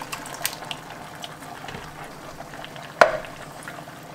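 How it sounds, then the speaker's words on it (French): Two cans of crushed tomatoes go into a cooking pot, a soft wet slushing and bubbling pour at low level with one sharp clink partway through. "Je vais ajouter mes 2 boîtes de concassés de tomates."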